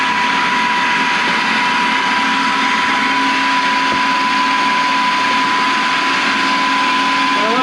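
A kitchen blender runs steadily for the whole stretch, a loud, even, continuous whir with no pauses or changes in speed.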